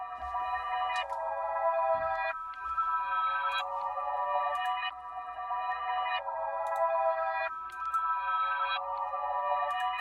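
A processed bell melody, reversed and pitched up six cents, swells in repeating phrases with a soft low hum beneath, steady and moderately quiet throughout with no voices.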